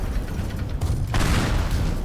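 Propane tanks blow up a bridge in Teardown with heavy, rolling explosions and crackling bursts, loud and sustained, with a sharp fresh blast about halfway through.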